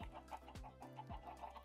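Chickens in the Minecraft video game cluck close and clear, a few short rhythmic clucks repeating over a soft, steady background with no talk.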